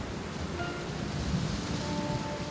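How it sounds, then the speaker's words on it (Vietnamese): The first autumn hailstorm pounds down as a dense, steady, hissing patter with faint low rumbles underneath, continuous throughout and heard without voices. "Kết quả gặp phải trận mưa đá đầu tiên của mùa thu."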